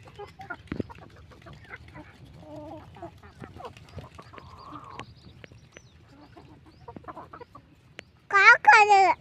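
Country chickens at a chicken farm cluck softly throughout, with a short burst of louder, higher calls near the end, under quiet background talk.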